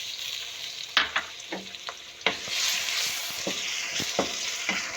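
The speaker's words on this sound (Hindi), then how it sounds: "अब इसमें डालेंगे ये लहसुन, ग्रीन लहसुन है, ये डालेंगे और इसके साथ ही हम डाल देंगे टमाटर।" Green garlic and finely chopped tomatoes fry in a pan for palak gosht, giving a bright, close sizzle punctuated by several sharp spatters and stirring clacks.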